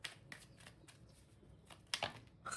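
Tarot cards are shuffled by hand in a quiet room, a series of soft riffling and sliding bursts at an uneven rhythm, close and faint.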